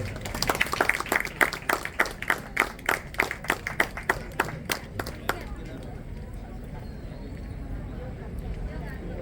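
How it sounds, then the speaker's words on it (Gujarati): Wedding guests at a ceremony in Raniamba clap in a steady rhythmic beat for several seconds, loud and close, then the clapping fades into a murmur of crowd chatter. "જોરદાર તાળી વગાડો"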